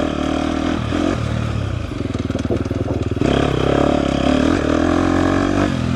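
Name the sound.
2024 KTM 250 XCF dirt bike riding off-road in third gear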